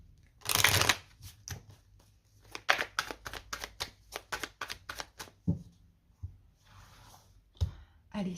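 Tarot cards are riffled and shuffled close up: a loud opening burst, then a rapid run of crisp flicking snaps, followed by softer sliding and tapping, with someone speaking briefly between shuffles.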